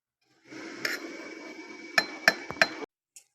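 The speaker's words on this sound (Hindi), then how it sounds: "ऊपर ढक्कन लगा लेंगे" A metal lid is set onto a cooking pot of boiling rice for beef yakhni pulao, giving a few sharp clinks and clanks over low kitchen background noise.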